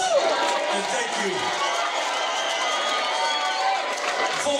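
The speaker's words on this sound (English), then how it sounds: "So give yourselves a big round of applause." A sellout crowd at a metal concert in the House of Blues claps and cheers, a continuous wash of applause and shouts that holds steady throughout.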